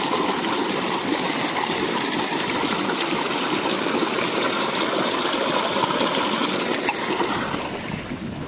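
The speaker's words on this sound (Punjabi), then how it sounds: "ਕਰ ਦਈਏ ਮੋਟਰ ਬੰਦ" Electric water pump motor on a farm running with water gushing out, a constant dense rushing hum that holds steady and eases slightly near the end.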